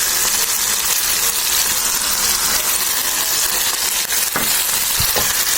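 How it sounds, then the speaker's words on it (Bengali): Tomatoes cooking down with ground spice paste in a pan for a Bengali dried-fish curry, giving a steady, loud, dense sizzle throughout with a couple of brief scraping stirs near the end. "বেটে রাখা মশলাটা টমেটোর ভিতরে দিয়ে ভালো করে কষিয়ে নিতে হবে।"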